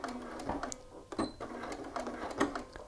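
Sewing machine stitching a shirt sleeve placket, running in short bursts of needle motion with a back tack, close and steady at moderate loudness with no talking.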